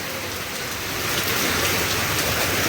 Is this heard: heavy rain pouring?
yes